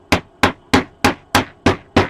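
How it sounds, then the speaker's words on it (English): A hammer taps a 3D printed Springtrap figure part to seat it, giving seven sharp, evenly spaced strikes about every third of a second, close and loud with no talking. "I'll still give it some taps with the hammer"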